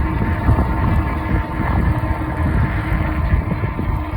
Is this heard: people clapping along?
no